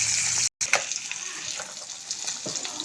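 Small tengra fish fry together in hot oil, a loud hissing, water-like rush that cuts out for an instant and resumes steadily, with no speaking.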